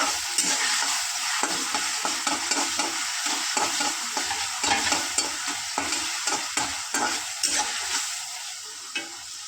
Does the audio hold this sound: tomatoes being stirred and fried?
yes